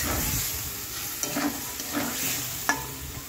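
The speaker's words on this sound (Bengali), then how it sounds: "তো সব মশলাগুলো দিয়ে ভালো করে কষিয়ে নেব" Spices and tomato paste frying together for a fish curry, a steady sizzle with repeated scraping stirs and a few sharp spatula taps, close and alone without speech.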